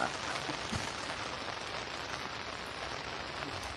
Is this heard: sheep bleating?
no